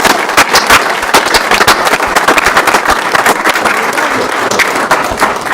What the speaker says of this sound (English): If we could please give them another round of applause.